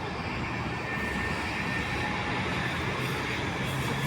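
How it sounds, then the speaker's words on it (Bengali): MRT train pulling into an elevated station in Malaysia, heard as a steady, loud broadband rumble and rushing roar throughout, with no talk. "তোমাদেরকে আজকে দেখাই যে মালয়েশিয়াতে ট্রেনগুলো কিভাবে আসে। এগুলো হচ্ছে এমআরটি স্টেশন।"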